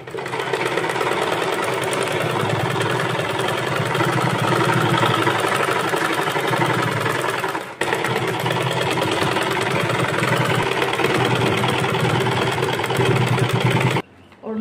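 Electric sewing machine stitching through paper for a craft wall hanging, running as a loud steady motor whir with a brief pause midway before starting again, then cutting off near the end.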